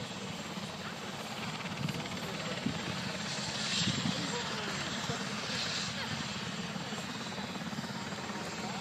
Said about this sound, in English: Richard Mrazek and the two L-29 Delphins coming in from the right.